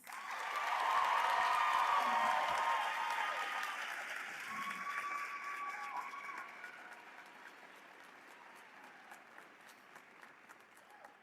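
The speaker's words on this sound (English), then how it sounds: "Please give our accomplished graduates another round of applause." Large audience at a Class of 2026 graduation ceremony applauding athletes who won state cross country championships, a dense wash of clapping that swells early and then slowly thins and fades.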